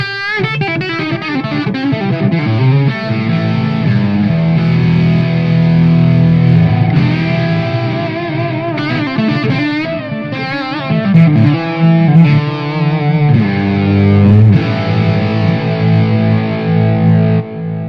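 Electric guitar playing a sustained melodic lead through a Blues Driver overdrive and a Dispatch Master delay, distorted and thick, with repeats trailing each phrase; loud and continuous with no voices.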